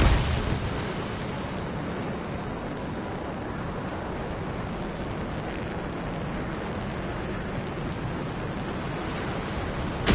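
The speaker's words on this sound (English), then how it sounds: "Look at the waterfalls, they're going backwards." Waterfalls in a video game roar as a steady, dense wash of rushing water that holds at an even level for ten seconds, with no voices over it.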